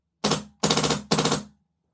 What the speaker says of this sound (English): 5-round burst.